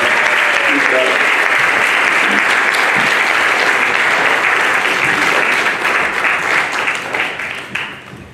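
A church congregation claps for the kids who took part, broad sustained applause that stays loud and full for several seconds before thinning and tapering off toward the end.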